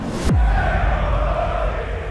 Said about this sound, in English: that crowd is up.